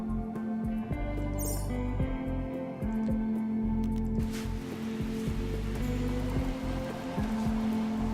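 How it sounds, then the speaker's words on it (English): Steady rain hiss in RimWorld rising over the game soundtrack of repeating low tones, with rainfall growing denser partway through. "it is raining now."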